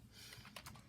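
Quick, soft keystrokes patter on a computer keyboard in a short burst, close and fairly quiet, with a few sharper clicks toward the end and no talk.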